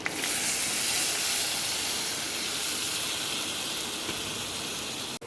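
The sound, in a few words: onions and chili powder sautéing in a pan for fish curry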